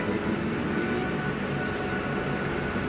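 Train noise at Gubeng railway station in Surabaya, Indonesia: a steady, loud rumble of rail cars rolling through the station, continuous for the whole stretch, with a brief brighter hiss partway through and no talking.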